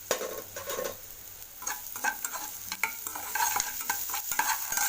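Onions sizzle in a shallow amount of oil for a cabbage paratha filling, with crackling frying hiss and intermittent scraping stirs of a spoon against the pan.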